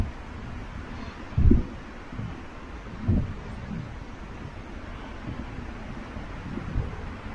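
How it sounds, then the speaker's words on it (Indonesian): Strong gusty wind on the sacred mountain Pusuk Buhit, Samosir, at a campsite: a steady low roar with two louder buffeting gusts near the microphone, no talking. "Anginnya pun makin kencang."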